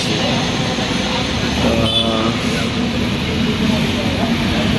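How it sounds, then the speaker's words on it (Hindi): A loud, steady rumble of a Mumbai Metro train running on its track, continuous throughout with a brief rattling swell in the middle. "मेट्रो भी चली"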